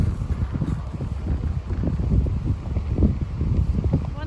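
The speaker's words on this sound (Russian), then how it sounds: "У нас ветер, может быть, плохо слышно." Wind buffeting a microphone in an open hayfield during haymaking, a steady low rumbling roar with gusty swells lasting the whole stretch, no clear voices.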